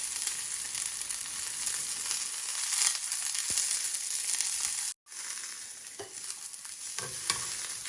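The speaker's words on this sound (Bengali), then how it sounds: "লাল পেঁয়াজ আর রসুন অলমোস্ট আমার কুক হয়ে যায়" Red onion, garlic and green chillies frying in a pan: a dense, steady crackling sizzle, close and fairly even, briefly cut off near the middle before resuming, with a few stirring clicks and no speech.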